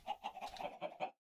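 Blaze chickens in a Minecraft-style video game give a short run of about six clucks in quick rhythmic bursts, close and moderately loud, with no talking over them.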